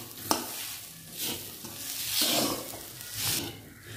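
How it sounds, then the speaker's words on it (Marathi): Freshly grated coconut being dry-roasted and stirred in a pan for khoa and coconut barfi, a soft hissing scrape that swells and fades as a spatula moves through it. "आपण आता 5 मिनटं हे खोबरं कोरडं होईपर्यंत परतून घेऊया"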